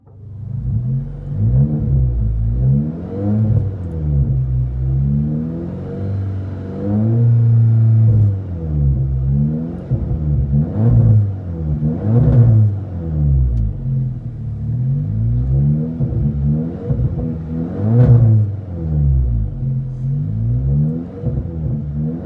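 A 2017 VW Golf R with a Race Demon split dual exhaust revs repeatedly, each loud, deep blip rising and falling in a steady rhythm of close, throaty bursts with no talking.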